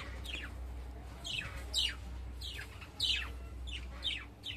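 Budgerigars in a breeding colony of about twenty pairs chirp in short, bright repeated bursts every second or so, moderately distant and fairly soft over a steady low hum.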